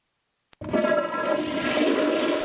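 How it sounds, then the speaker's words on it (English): A high-efficiency toilet on a college campus flushes after a brief click, a strong rushing swirl of water that holds steady and loud to the end, with no voices. "this one toilet flush would have used up to 7 gallons of water"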